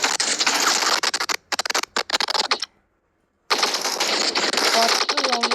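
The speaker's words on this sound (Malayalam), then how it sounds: "10 സോംബികളെ ഇങ്ങനെ വെടിവെക്കണം." Rapid automatic gunfire from a zombie shooting video game, dense bursts of shots with a brief silent gap midway before firing resumes, loud and close.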